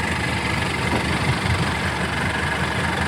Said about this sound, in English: And all these sweet clattery diesels.